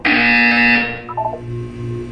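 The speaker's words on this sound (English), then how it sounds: "You will hear a buzzer." In the Portal 2 video game, a loud electronic buzzer blares for under a second and then cuts off, leaving a low mechanical hum behind it.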